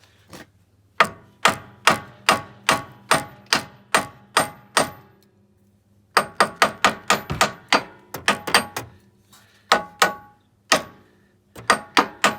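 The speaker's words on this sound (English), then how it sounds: "tap it with a hammer." Hammer tapping on the rear driveshaft of a 1998–2011 Ford Ranger 4x4, a series of sharp, evenly spaced metallic knocks in quick bursts with short pauses between, close and loud.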